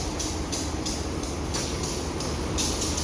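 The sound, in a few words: Lembah Anai passenger train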